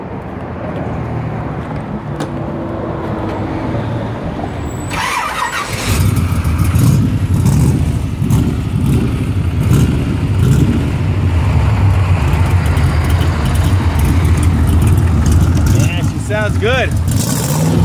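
A 1969 Chevrolet Corvette convertible with a fuel-injected 383 making 500 hp and a four-speed cranks, then catches and settles into a loud, rumbling idle that continues steadily to the end of the clip, with people talking over it.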